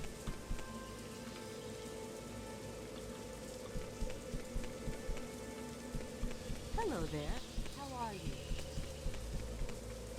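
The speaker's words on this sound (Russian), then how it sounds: "Дождь еще не кончился." Rain falling in the video game Morrowind with the Tamriel Rebuilt mod, a steady soft patter throughout, joined midway by a brief gliding tonal sound and some quiet murmuring.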